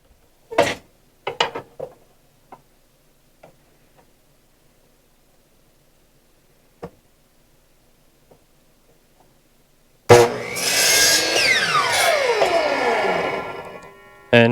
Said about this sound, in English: So I'm going to get right here in the chop saw.